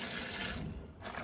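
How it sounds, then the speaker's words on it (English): Hot water gushes steadily from a tap into a sink to rinse a part of a Pacvac Glide 300 vacuum, a loud, continuous rushing flow that dips briefly partway through, with no voices. "we're going to rinse this out initially a couple of times just to get most of the dirt out"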